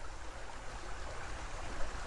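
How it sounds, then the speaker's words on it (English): Muddy creek water flows downstream beside a highway, a continuous soft rushing and burbling with a low rumble underneath, steady and moderately quiet with no voices. "Watch the muddy water wash down"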